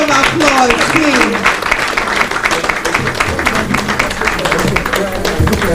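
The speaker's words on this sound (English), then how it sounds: "The incredible panel, please, a real round of applause, please." Conference attendees at an HMO stakeholders' engagement applaud a panel, a moderate patter of clapping running beneath a loud, continuous voice speaking over it.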